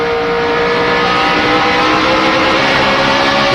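Rusty Wallace's NASCAR race car, heard onboard at the 2002 Sharpie 500, gives a loud, continuous engine roar that climbs steadily in pitch as it accelerates, with no talking.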